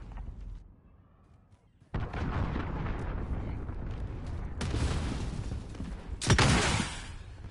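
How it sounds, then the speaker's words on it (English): Cruise missile strike in a multiplayer video game: after a quiet start, a heavy rumbling blast opens into continuous booming explosions and debris, with further sharp impacts near the end, loud and close. "Allied cruise missile launched."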